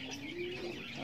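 Young racing pigeons coo in a low, steady, continuous tone up close, with soft chirps and faint rustling around them.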